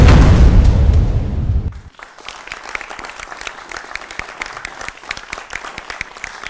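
Loud, dense applause fills the opening from a studio audience on a televised debate show, then drops off sharply and gives way to scattered, lighter claps that continue to the end.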